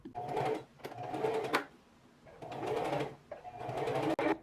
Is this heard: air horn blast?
no